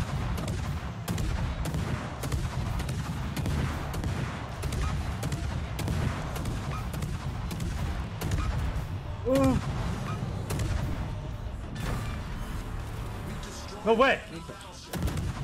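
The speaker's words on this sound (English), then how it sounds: "I'm shooting Shimakaze at max range." Naval guns boom repeatedly in a World of Warships-style battle aimed at a Shimakaze destroyer, with steady rumbling gunfire and explosions throughout and a sharper burst near the end, while a player talks excitedly over it.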